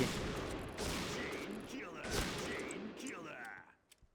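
Bursts of rapid gunfire from a new gun in a video game crackle in quick volleys with sharp ricochet-like zips, fairly loud, ending in a few scattered shots before quiet.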